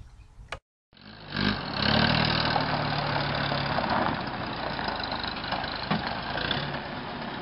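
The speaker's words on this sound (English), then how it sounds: "Here's a World War II Jeep." The engine of a 1943 Willys MB World War II Jeep, a government rebuild from February 1945, idles in a steady, rough mid-pitched rumble, close and loud after a brief cut near the start.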